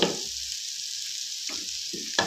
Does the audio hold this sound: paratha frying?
yes